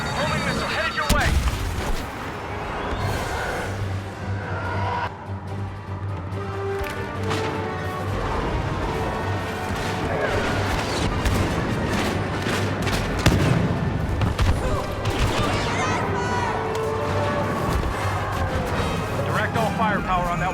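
Airstrike explosions tear through a Star Wars Battlefront beta battle on the Rebel side, with repeated heavy booms and crashes over constant gunfire and battle noise, and voices calling out throughout.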